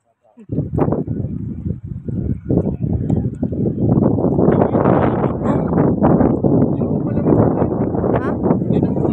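Loud, steady wind buffeting the microphone, a continuous roar with gusty swells that builds and stays strong throughout.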